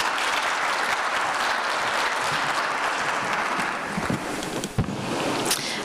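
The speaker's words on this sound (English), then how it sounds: "A round of applause for her." Sustained audience applause at an aviation conference session on women in aviation, a dense, even roar of clapping filling the hall, with a few sharper claps standing out near the end.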